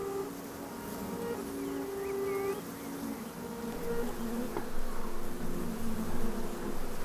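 Wild bees buzz in a close, steady drone with shifting pitches as individual insects move about, over a low background hum, without speech.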